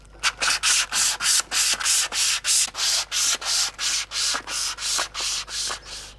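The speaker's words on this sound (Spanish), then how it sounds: "Voy a lijarla un poco." Hand sanding of the outside of a turned wooden jug on a lathe, about fifteen even, rhythmic rasping strokes, close and loud, with no talking.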